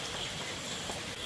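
Steady rain falling hard, a dense continuous hiss with drops pattering on surfaces close by.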